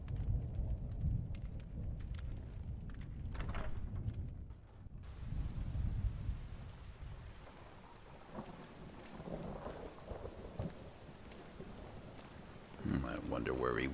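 Steady rain with rumbling thunder in the Skyrim SE video game, a continuous wash of falling water under low rolls of thunder, with a voice talking over it partway.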